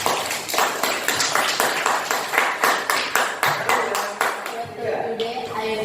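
A classroom group claps together in a quick, rhythmic pattern of many sharp hand claps, fairly loud and close, with voices mixed in and the clapping thinning out near the end.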